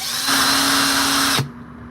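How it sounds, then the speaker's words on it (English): A small drill used on a ring whines steadily at high speed for about a second, then winds down and stops, leaving faint hum. "And you also got a drill here."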